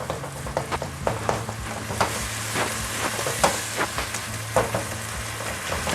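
Hamburger meat sizzling steadily in a hot pan while a spatula chops and scrapes at it, the sharp taps and scrapes recurring every second or so over the constant close frying hiss.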